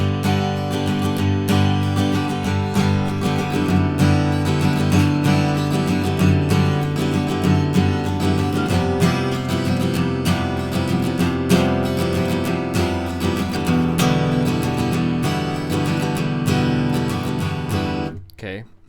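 Guitar strumming and picking the chord sequence of The Wind Waker's Great Sea theme, ringing steady chords with bright plucked notes, continuous and close, ending in a sharp final stop.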